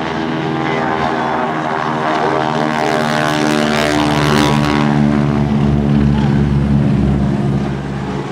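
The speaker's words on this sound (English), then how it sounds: "the Beechcraft Model AT, the twin-engine aircraft in the lead" A loud, steady propeller-aircraft drone with deep harmonic engine hum, holding strong throughout as a twin-engine Beechcraft Model AT passes close by at an airshow in Rhode Island.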